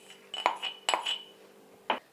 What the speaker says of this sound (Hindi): ये सारा गोंद मैं इसमें फोड़ लेती हूँ।